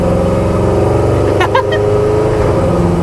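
A Ford F-100 restomod with a Chevrolet engine, heard from inside the cab, drones loud and steady with a brief shift blip midway and no clear rise in revs.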